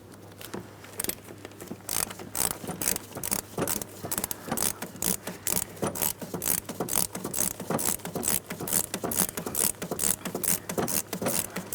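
Rapid ratcheting clicks from a ratchet wrench removing the last center-rear valve cover bolt on a 2003-2007 Cadillac CTS 3.6L V6, close and steady in quick bursts throughout, with no talking.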